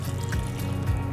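Filtered tap water poured from up close into a pot of sunflower seeds in a kitchen, a short, steady trickle and splash with no talk over it.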